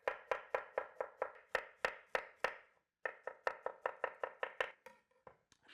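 A knife chopping a head of cauliflower finely on a board, crisp close rapid strokes in quick even runs, a brief pause, then another fast series trailing off into scattered taps.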